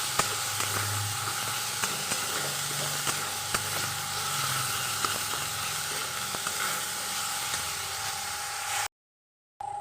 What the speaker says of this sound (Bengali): একসঙ্গেই ভালো করে কষাটা হয়ে যাবে মশলাটার সাথে